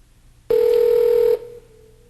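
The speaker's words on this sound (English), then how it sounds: "I'm just going to call him back on my cell phone" A cell phone places an ordinary call over a wireless carrier: a single loud, steady electronic tone lasts close to a second, then cuts to a faint lingering hum, with no one speaking.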